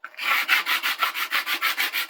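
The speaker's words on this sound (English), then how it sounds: "after just a few passes with the sandpaper, it looks much better" Rhythmic back-and-forth rasping of sandpaper on wood, about nine even strokes in quick succession, close and clear.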